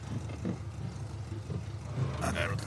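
A car engine runs in The Last of Us remake on PS5, a low continuous rumble under the whole stretch, with faint voices and a few brief louder sounds near the end.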